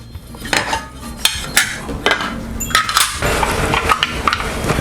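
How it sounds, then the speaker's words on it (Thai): Metal plates from an Airbot WM101 waffle maker clatter and knock while being washed, a series of sharp close clanks and scrapes with running rinsing noise in the latter half. "เดี๋ยวเราจะเอา ตัวเนี้ยไปล้างก่อนที่เราจะเอามาทำขนมนะนะครับ"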